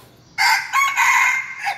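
A rooster crows loudly and close by, one full cock-a-doodle-doo lasting over a second with a brief break partway through and a trailing end, heard alone without speech.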